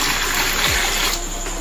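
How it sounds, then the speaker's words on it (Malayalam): Water pours steadily into a bucket, a continuous gushing splash that stays even and close for the whole short stretch. "അതിനകത്തേക്ക് ആവശ്യത്തിന് വെള്ളം ഒഴിക്കുക"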